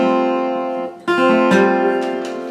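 A guitar strum that wrongly catches the 5th and 6th strings, heard as a sustained ringing chord followed by three sharp strums that ring out, fairly loud and alone.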